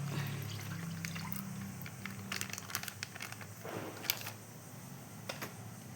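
Milk from a packet pours into semiya payasam, a thin, quiet, continuous trickle close by with a few soft crinkles from the packet, and no voices.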